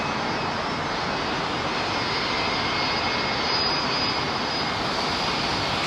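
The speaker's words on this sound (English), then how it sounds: "Oh, the lovely sound of Rolls-Royce" Rolls-Royce RB211 jet engines roar continuously as a Boeing 757 airliner departs runway 27R at London Heathrow, a loud, steady broadband rumble and whine with no talking.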